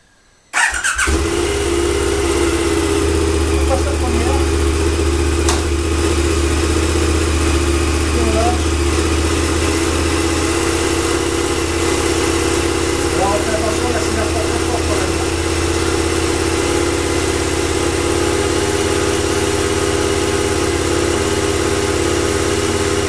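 A KTM 1090 motorcycle sitting on its center stand starts up with a brief crank, then settles into a steady, loud idle that runs without a break.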